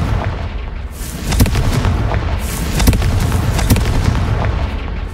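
A Confringo spell explosion in a Harry Potter video game, heard as repeated booming blasts and crackling bursts over a thick, roaring wash of noise, loud and close with no talking.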